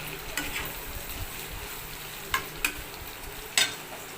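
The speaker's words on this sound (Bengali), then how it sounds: "এবার আমি ভালো করে মশলাটা কষাবো" Spice paste with a little sugar being stir-fried in a pan for prawn dal, a faint steady sizzle broken by a few sharp spoon scrapes and clicks near the end.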